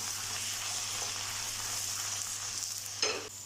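Steady sizzling of tomatoes, ginger-garlic paste, green chilies and spices frying in a pan, with a soft stirring scrape near the end.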